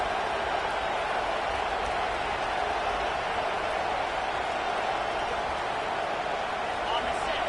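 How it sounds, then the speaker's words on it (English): A steady, constant roar of a large stadium crowd at an American football game against Kentucky fills the background while a commentator talks over it. "This crowd bringing the energy and noise early."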